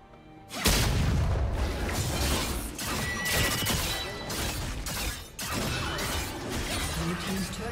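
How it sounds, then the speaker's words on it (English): A turret being destroyed in League of Legends opens with a sudden heavy boom, then crashing, crumbling impacts and repeated thuds over several seconds, loud and close, with a game voice heard in the mix. "Blue team's turret has been destroyed."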